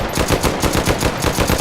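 Rapid automatic gunfire from a gun in the VR shooter Hotdogs, Horseshoes & Hand Grenades during a survival wave, a steady burst of evenly spaced loud close shots running without a break.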